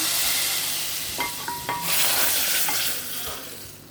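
Hot tempering is tipped into bottle gourd kootu and stirred in. A loud hiss of sizzle comes first, then a few scraping knocks of the spoon against the pot.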